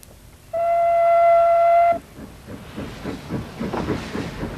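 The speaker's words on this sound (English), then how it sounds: "The steam train is one of the traditions that still attracts tourists to the Isle of Man." An Isle of Man steam train gives one loud, sustained whistle for over a second, then rhythmic chuffing and hissing from the engine follows close by.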